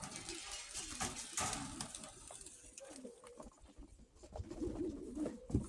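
Soft cooing of a blue-grey rock pigeon hen murmurs in the background, with rustling and faint fluttering, fairly quiet throughout.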